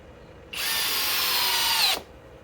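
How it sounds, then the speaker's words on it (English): A Flex 1231 compact hammer drill runs in one short burst of about a second and a half, a loud steady whine that spins up and cuts off, with near silence before and after. "The flex compact hammer drill."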